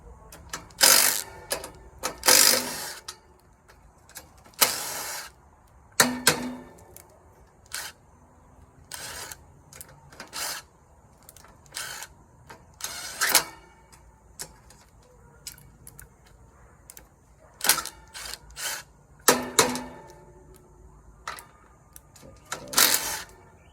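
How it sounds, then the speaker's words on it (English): Small Milwaukee impact driver working a fastener loose on a fan motor, several short, loud bursts of rapid mechanical hammering spread across the clip, separated by quiet gaps. "See if I can get it to let loose that's sitting down in here. Using my little Milwaukee Impact."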